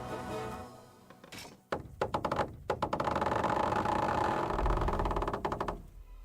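In the video game Kingdom Come: Deliverance, a heavy mechanical thunk followed by a rapid series of creaking, rattling knocks as a trebuchet winds and launches, with a low rumble near the end.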